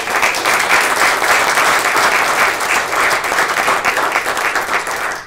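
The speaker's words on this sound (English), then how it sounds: "let's give another round of applause to all of" Loud, dense applause from an audience at an awards ceremony, a continuous wash of many hands clapping at once that holds steady throughout, close and full, with no speech over it.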